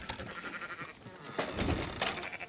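Sheep bleat in Red Dead Redemption 2, a few wavering cries close by against a busy farm backdrop of the game, reasonably loud and unaccompanied by speech.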